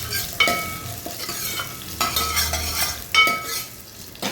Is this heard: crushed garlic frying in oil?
yes